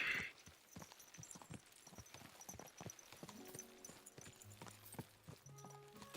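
Horses' hooves clip-clop at a brisk, irregular pace in the medieval game Kingdom Come: Deliverance II, with a short tonal cue and a voice talking partway through.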